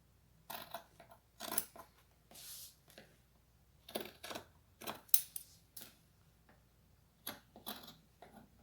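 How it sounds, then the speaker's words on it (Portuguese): Scissors snip through fabric close to a seam while making a rounded zippered pouch, a series of short, quiet, crisp cuts in irregular bursts with pauses between, no voices. "Eu vou cortar também a poucos milímetros da costura."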